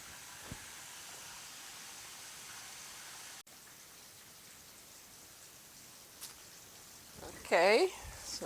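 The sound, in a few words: catfish fillets frying in oil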